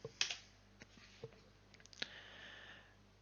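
A command being typed on a computer keyboard, a few scattered light clicks and taps, faint and close, with quiet gaps between keystrokes and no speech.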